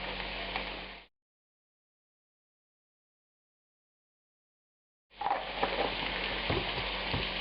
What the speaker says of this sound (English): Now I'm going to put the meat down on top of it for a minute here.